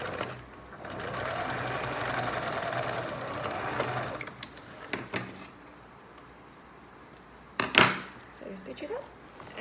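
A sewing machine runs steadily for about four seconds, stitching closed the opening of a small fabric pouch or pencil case, then stops; a few handling clicks and thumps follow close by.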